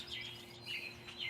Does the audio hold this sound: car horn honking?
no